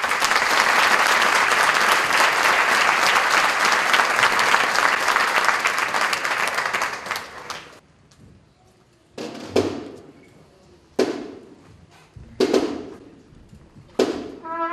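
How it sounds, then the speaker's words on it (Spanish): Audience applause at a Lent concert by a Nazareno musical group, a full dense burst of clapping for about seven seconds that fades out, followed by several sharp isolated thumps. "Un fuerte aplauso."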